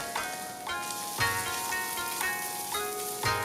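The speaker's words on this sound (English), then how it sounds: "Once it starts to sizzle and release its aroma, add the Sakura shrimp." Ginger sizzles steadily in a hot pan, a constant hiss with soft music playing in the background.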